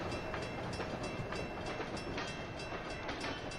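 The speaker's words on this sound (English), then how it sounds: "The locomotive I am driving is a PA." PA diesel locomotive of the New York Central on the Boston–Albany line in a train simulator game, a steady loud rumble of engine and rolling wheels with faint periodic rail clicks, no talking.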